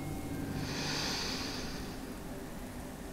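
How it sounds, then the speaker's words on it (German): During a calm bedtime story for children, a soft, drawn-out breath is drawn in through the nose against a steady hiss of background noise. "Sie schnaufen tief ein"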